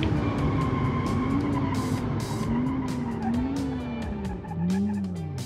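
A sport hatchback brakes hard in BeamNG.drive, its tires squealing loudly in a wavering skid over engine and road noise, with sharp clicks throughout and no talk.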